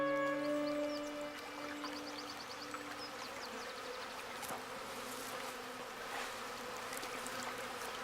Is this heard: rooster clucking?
no